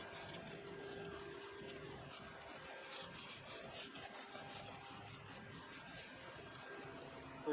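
A WD-40 soaked rag rubs steadily over brake caliper slider pins, a continuous close scrubbing and rasping with no pauses and no talk.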